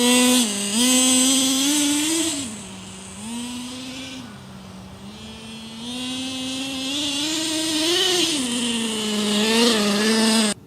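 A Traxxas T-Maxx nitro RC truck's small engine screams at full throttle during break-in, the high buzzing pitch rising and dipping in bursts as it revs, loud and steady for about ten seconds with no talking.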